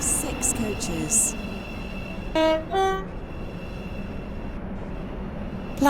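A metro train in the game Stepford County Railway runs with a steady hum while two short horn blasts sound in quick succession, and brief high chimes come at the start and end.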